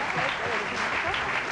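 A studio audience applauds a father and his children for Father's Day with dense, steady clapping that fills the whole short stretch at an even loudness.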